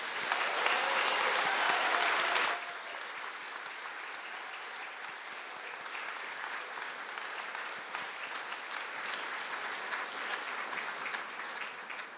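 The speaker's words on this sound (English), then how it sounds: "please stand for a round of applause." Audience applause at a graduation conferring ceremony, loud sustained clapping from a crowd that drops abruptly to a softer, thinning patter of claps.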